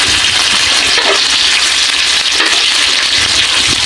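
Chopped onions fry in a pan for spicy rabbit adobo cooked in coconut milk, giving a loud, continuous hiss with faint crackles and no voices.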